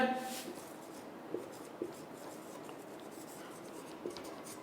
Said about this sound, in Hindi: आप लिख लेना, मैं यहाँ लिख देता हूँ